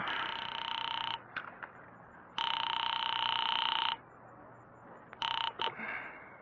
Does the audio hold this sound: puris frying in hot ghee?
no